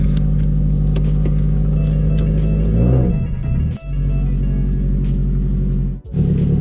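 Subaru WRX STI engine revving loudly up close while reversing, a steady deep rumble with rising revs and two brief dips as the throttle lifts.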